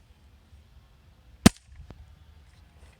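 A Gamo M4TAC pump pellet gun fires once after ten pumps, a single sharp, loud crack that stands alone against quiet background hiss, followed by a faint secondary tap a moment later.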